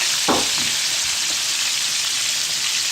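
Onions sizzle steadily in butter in a pan for a sauce for sea bream, with a short sharper crackle burst near the start as they go in, then an even hiss throughout.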